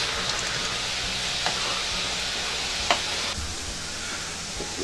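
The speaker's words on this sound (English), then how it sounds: "this has been frying for 3 minutes now" Steady crackling sizzle of chin-chin dough frying in hot oil, continuous and close, with a few faint clicks.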